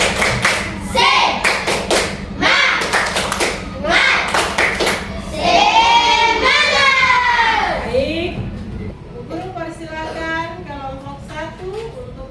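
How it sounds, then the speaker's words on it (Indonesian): Classroom of children performing a rhythmic Indonesian spirit clap (tepuk semangat) during a religion lesson, sharp patterned clap bursts and thumps followed by children's chanting voices, loud and close. "Tepuk semangat."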